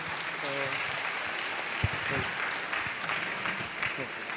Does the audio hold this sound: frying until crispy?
no